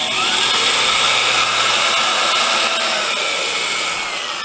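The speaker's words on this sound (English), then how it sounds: "I'm going to go and drill all those" A power drill boring holes into wooden tabletop boards for screws, a loud, close, steady high whine that runs unbroken and eases slightly toward the end.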